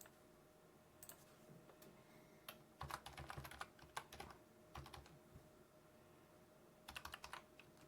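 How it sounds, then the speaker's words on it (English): Someone types a password on a computer keyboard, with quiet, close key clicks coming in short irregular bursts separated by pauses in an otherwise still room. "Let me just put in the password here."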